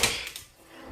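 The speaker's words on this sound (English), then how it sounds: "where this door will lead" A door being opened inside an apartment, leading onto a balcony after rain: a short wooden clunk and latch rattle at the start, then a soft fading rustle and a second light knock at the end, close and fairly quiet.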